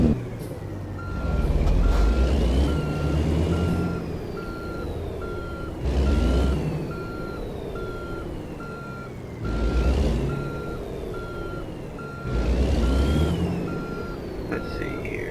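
In American Truck Simulator, a truck backs up with a trailer: steady reversing beeps pulse over a low diesel rumble, while engine surges swell and fade in four repeated waves.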